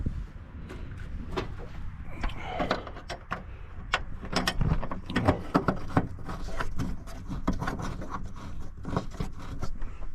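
A hand tool loosens the bolts on a car's headlight grille, giving a run of close ratcheting clicks and metallic scrapes in uneven bursts over a steady background.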